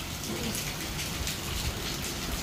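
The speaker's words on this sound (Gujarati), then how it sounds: "વરસાદ જોવો" Steady rain falling outdoors in a Gujarat village, a dense even hiss of drops hitting surfaces, continuous and fairly close, with no voices.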